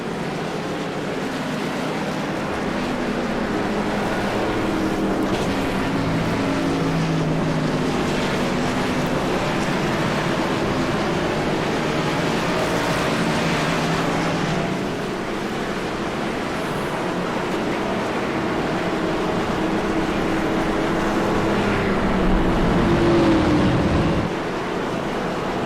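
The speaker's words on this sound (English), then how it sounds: "You hear the roar of the cars as they come around the corners here." Cars in a classic-car racing series at Nashville roar around the track corners, a continuous loud engine drone that swells and fades slightly as they pass, heard from trackside without talking.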